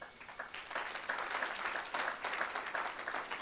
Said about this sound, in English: May you please clap hands for those who did this organizing